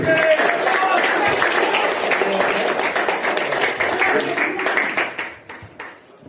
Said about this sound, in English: give a round of applause for Tommy.